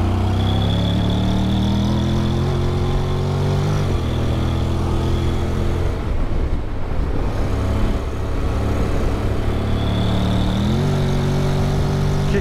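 A 2021 Honda Forza 750 scooter engine pulls steadily uphill in sport mode, a loud continuous drone whose pitch climbs, dips at a kickdown around the middle, then rises again, heard close and alone.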